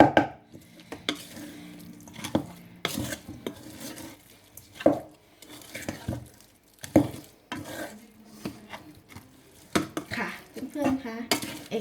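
Salted fish mixture for Thai som pla being stirred in a bowl gives irregular wet scrapes and clinks of utensil against the dish, with quiet pauses between strokes.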